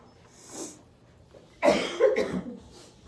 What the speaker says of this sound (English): that cough is still lingering